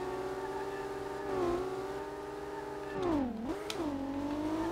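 A 2JZ-engined Nissan 240SX in the racing game SLRR revs steadily at high pitch, with harmonic engine tones that dip and recover twice as the revs sag and climb, sounding close and continuous.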